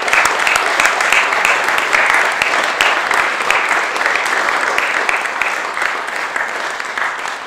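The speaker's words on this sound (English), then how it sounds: "Students, let's give our staff a round of applause." A school audience gives a sustained round of applause for staff at a college leavers service, dense steady clapping that fills the whole stretch and tapers slightly toward the end.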